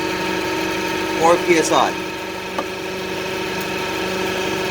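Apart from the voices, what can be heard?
Toyota engine running at idle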